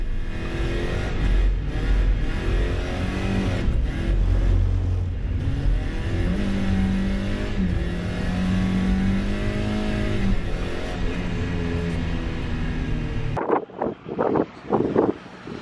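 A Mazda Miata drift car runs a daylight lap, its engine droning and rising and falling in pitch as it revs through an S-curve, loud and close with wind buffeting the mic, then cutting to a few sharp bursts near the end.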